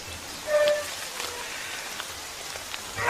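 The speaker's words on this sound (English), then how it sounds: "we have some unusual rains" Rain during an unusually wet dry season in jaguar country, pattering softly and steadily on surfaces with scattered drip sounds and no voices.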